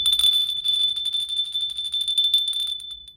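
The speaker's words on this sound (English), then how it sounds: "let's ring the bell for the ancestors" A small bell rings rapidly and continuously with a bright, high tinkling tone, close and clear, fading out after about three seconds.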